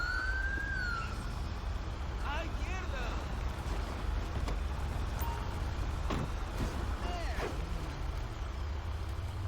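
A wailing fire engine siren in the video game GTA 5 sweeps up and down over a constant engine and traffic rumble, with a voice talking intermittently.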